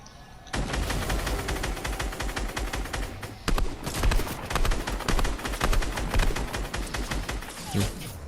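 Fortnite gunfire erupts after a brief quiet start, rapid crackling shots continuing densely for several seconds, with a sharp louder report midway and sustained volleys afterward, close and loud.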